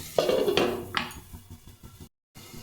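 A metal lid clanks onto a pan of lightly fried potatoes on the stove, two or three close, sharp clinks followed by soft rattling and a brief silence.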